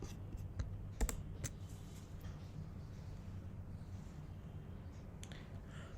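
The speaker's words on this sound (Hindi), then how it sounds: "मैं जल्दी से कमांड प्लस एंटर से इसको सबमिट करके देखता हूँ" A few quick, faint key clicks from a computer keyboard as Command+Enter is pressed to submit code, clustered near the start and then giving way to quiet room noise.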